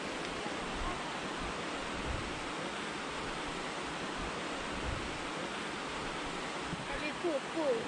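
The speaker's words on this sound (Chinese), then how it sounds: "能高瀑布" Steady broadband roar of Nenggao Waterfall in Taiwan's mountains, continuous and fairly loud throughout, with faint voices briefly over it near the end.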